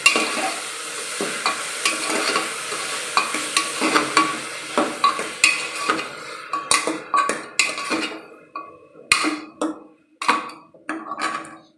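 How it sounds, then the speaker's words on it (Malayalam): A spoon stirs egg curry masala in a pan with turmeric and salt, making a run of close, sharp scraping and clinking strokes over a soft sizzle, the strokes quickening and growing more separate toward the end. "ഇതിനി നമുക്ക് നല്ലോണം ഒന്ന് മിക്സ് ചെയ്തെടുക്കാം"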